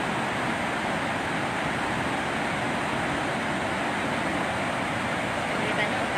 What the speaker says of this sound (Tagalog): Mas malakas na mas mabilis yung pagpapalabas na ng tubig.